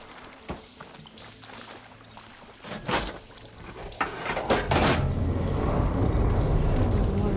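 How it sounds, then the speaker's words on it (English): Water in the video game Horizon Forbidden West rushes through pipes after the flow is switched by desert machinery, starting with clunks and knocks and swelling into a steady loud gush, with in-game speech over it. "Aloy, I can hear water in the room again."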